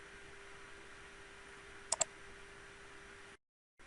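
A computer mouse clicks twice in quick succession while the Photoshop pen tool places anchor points, crisp and close against a quiet background hum.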